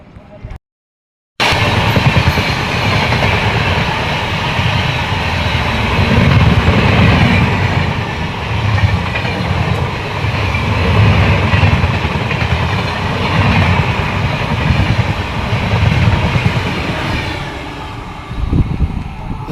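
The Vindhyachal Express rolls slowly past near Prayagraj with a loud, close, steady rumble of wagons and faint wheel clatter that fades in after a brief silence and carries on for the rest of the stretch.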